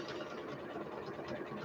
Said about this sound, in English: can you even hear me over the sewing machine?